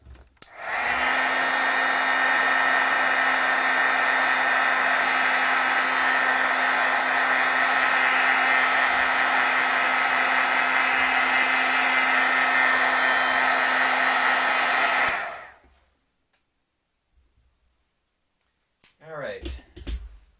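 A heat tool blows steadily for about fifteen seconds, drying and setting freshly stamped ink for a stamped landscape scene, then cuts off abruptly, leaving near silence with a little faint handling noise at the end.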